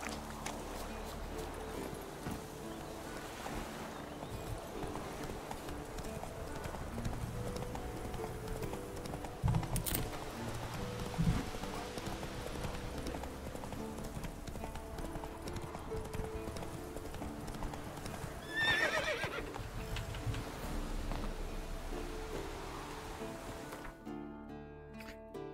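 A horse trots along in The Witcher 3: Wild Hunt, its hooves clip-clopping in a steady rhythm throughout, with a short neigh partway through and game music and a player's occasional voice underneath.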